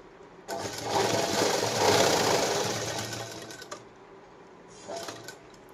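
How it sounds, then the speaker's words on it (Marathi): A sewing machine stitches a folded piece of saree fabric for a blouse, running in one loud, steady mechanical whir for about three seconds, then stopping, followed by a shorter burst and a few quiet clicks. "फोल्ड केल्याच्या नंतर आपण पूर्ण याला शिलाई मारून घ्यायची"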